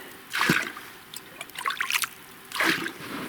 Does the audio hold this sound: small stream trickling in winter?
yes